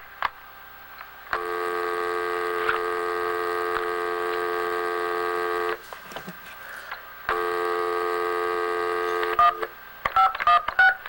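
Telephone tones: a long, steady electronic tone runs for several seconds, pauses amid brief clicks, then sounds again, followed by a quick run of short, separate dialing beeps at the end.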